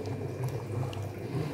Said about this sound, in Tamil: இப்போ நல்லா அரிசி போட்டதும் கொதிக்குது